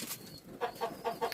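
An egg-laying hen clucks in a quick series of four short, close clucks in a rural poultry setting, with light background noise.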